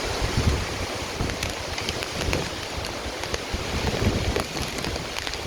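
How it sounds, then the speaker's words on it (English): Strong wind gusts from Hurricane Ian in College Park, Orlando, Florida rush in a loud, continuous roar with buffeting bursts on the microphone and a rain-like hiss, with no voices. "We've got a huge gust."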